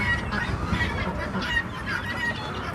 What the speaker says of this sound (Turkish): Burada horozlar var.